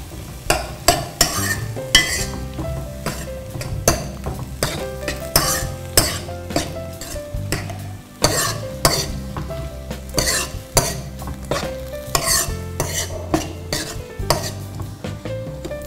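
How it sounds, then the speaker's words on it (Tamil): Tomatoes for sambar are sautéed and stirred in a pan, a spoon scraping and clinking in a steady repeated rhythm over a continuous soft sizzle, close up. "தக்காளியும் நல்லா வதங்கணுங்க."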